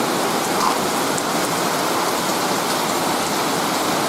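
Light rain shower falling during a rare dry-season sprinkle in a yard, a steady soft patter of drops with a constant hiss, no voices.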